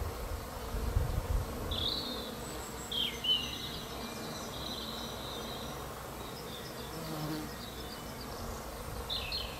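Bees, wasps and flies busily foraging for nectar and pollen over a bed of many-coloured heather, a steady soft insect buzz with a few louder passes close by in an open outdoor setting.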